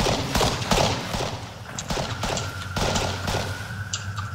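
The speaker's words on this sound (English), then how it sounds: "You in a gun battle right now?" Gunfire in an Arma 3 Wasteland gun battle: sharp shots crack in quick bursts and scattered single reports, near and loud, over a low engine-like drone.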